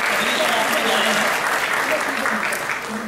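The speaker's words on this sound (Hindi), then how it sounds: "एक बार जोरदार तालियां इनके लिए" An audience at an April 2017 Unicity business plan meeting claps loudly and steadily for first-time attendees, dense applause filling the room for about three seconds before easing slightly at the end.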